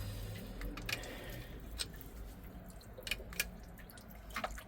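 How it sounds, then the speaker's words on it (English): Fuel pouring and dripping during engine work on a 1968 Bertram Bahia Mar 20 boat, heard as scattered close liquid drips and splashes over a steady low rumble, with several sharper drops standing out. "Oh, I'm pouring fuel everywhere."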